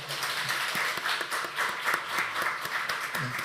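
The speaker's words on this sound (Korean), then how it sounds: "박수로 한번 맞아." A church congregation at a Sunday service claps in welcome for a newly joined member, a steady wash of many hands at moderate loudness with a few distinct claps standing out near the front.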